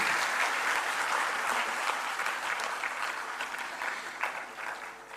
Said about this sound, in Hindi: एक बार सबके लिए जोरदार तालियां हो जाएं